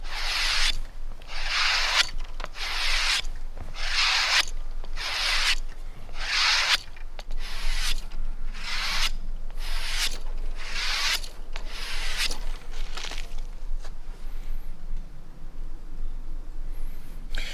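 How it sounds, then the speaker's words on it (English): Knife blade dragged edge-trailing along the inside of a leather belt in steady repeated strokes, a close, even rasping rub pulsing roughly every second, with no talk. "I'm going to use the inside of my belt, and I'm going to drag the knife"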